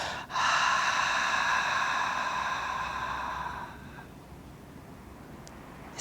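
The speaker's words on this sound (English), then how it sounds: "You're fogging up with the sound in the throat instead of the nose." A long, steady breathy exhale through an open mouth, hoarse and airy from the throat, close up, fading out after a few seconds.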